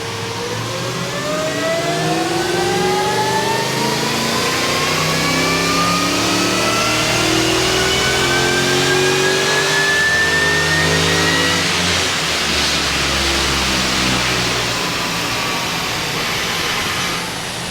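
A supercharged 5-litre Ford engine roars on a dyno at a Ford dyno day, climbing steadily through a long, loud full-throttle pull with rising whine and exhaust drone, then easing off near the end.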